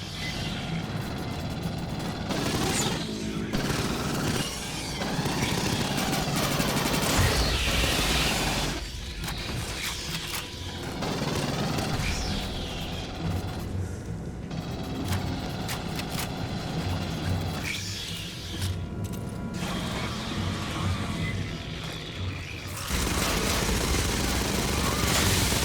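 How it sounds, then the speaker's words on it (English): Suppressive gunfire during an ambush in the video game Aliens: Fireteam Elite, sustained bursts of automatic weapons fire mixed with explosions and game music, dense and loud throughout with brief pauses. "Ambush! Suppressive fire now!"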